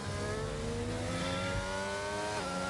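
A McLaren race car engine in a racing video game at Abu Dhabi screams at high, steady revs, its harmonic whine holding loud and continuous before a brief pitch dip near the end.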